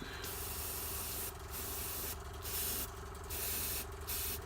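An airbrush sprays varnish over a Blood Angel Librarian miniature in a steady close hiss, broken into several short bursts of a few seconds each with brief pauses between them.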